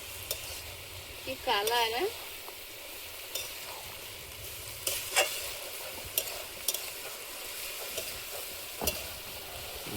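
Purple cabbage hits a hot pan and fries with a steady sizzle, scraped and stirred with several clattering utensil strokes, while a voice briefly exclaims in the background.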